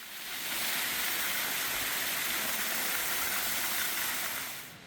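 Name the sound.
indoor waterfall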